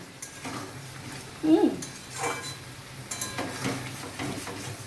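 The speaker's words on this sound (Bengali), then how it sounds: "এই দেখুন যত কষবো, এটা আমার দিদি বলেছে একদম ভালো করে কষবি, যত কষবো তত নাকি টেস্ট খুব ভালো হয়" Prawn khichuri being stirred and sautéed in a pan: a utensil scrapes and clinks against the metal in irregular strokes over a faint background sizzle, close by, with no talk.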